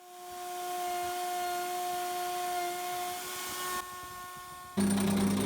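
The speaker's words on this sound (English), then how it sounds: "Here I am routering the mortise for the neck to sit into the top of the guitar." A router cuts the neck mortise into the top of a handmade acoustic guitar, giving a steady whining hum that changes pitch partway through and turns louder and harsher near the end.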